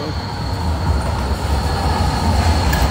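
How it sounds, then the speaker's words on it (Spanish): Tram rolling past in Karlsruhe city centre, a steady loud rumble of wheels on rail with a faint high whine, continuous throughout as the long coupled tram passes nearby. "Mira cómo viene el tranvía, ¿eh? Ahí viene el tranvía."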